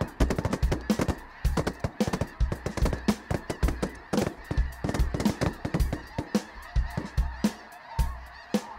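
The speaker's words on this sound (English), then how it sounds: "snow geese in a flock are so incredibly loud" A large flock of snow geese honking loudly and continuously, overlapping calls close by, with a few sharp knocks mixed in.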